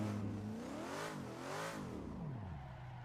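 In the racing game Assetto Corsa, a drift car's engine revs up and down in sweeping rises and falls, a steady mid-loud whine with no speech over it.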